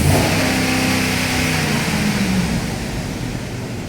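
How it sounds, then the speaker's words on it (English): A car engine is revved hard up to its rev limiter, a loud, close, sustained roar that holds near the top, then eases off as it falls back toward idle. "I'm going to rev it up to rev limiter right here."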